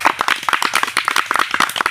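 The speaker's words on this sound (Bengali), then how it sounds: "সব হাততালি দাও আগে" Children and audience clapping at a village magic show, quick uneven handclaps close by, dense and rhythmic for the full stretch, loud and bright.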